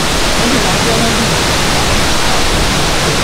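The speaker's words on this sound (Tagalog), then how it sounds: "Ito yung Hulugan Falls oh" Hulugan Falls, a 285-foot waterfall in Laguna, roars as a dense, steady broadband rush of falling water, loud and constant throughout with no clear breaks.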